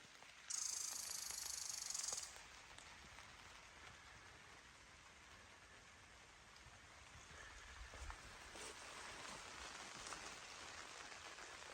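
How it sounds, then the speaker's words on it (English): Light rain falls steadily outdoors in northern Minnesota forest country, a soft, constant hiss of drops with a brief louder burst of rainfall near the start before settling back to a gentle, even patter. "We got a little bit heavier of rain now."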